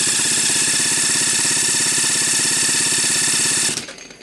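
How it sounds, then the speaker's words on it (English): A pink Husqvarna chainsaw runs loud and steady with a harsh, buzzing two-stroke drone for several seconds, then cuts off abruptly near the end, leaving a faint fading rumble; nobody speaks. "that obnoxious noise in the background is the pink Husqvarna chainsaw that I bought"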